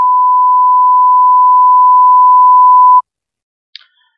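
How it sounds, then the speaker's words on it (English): A single steady electronic beep tone, loud and clean, held for about three seconds in a language listening-test recording, then cutting off into silence with a faint brief click afterward. "there is a beep in the end, so you need to replace that beep with the correct response in the answer"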